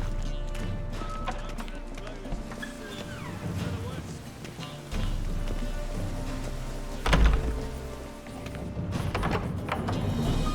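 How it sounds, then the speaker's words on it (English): Steady rain patters on surfaces with a low rumble beneath, punctuated by a few thumps and footsteps, with voices speaking faintly over it, in the video game The Witcher 3: Wild Hunt. "Call this rain? You've clearly not seen true precipitation."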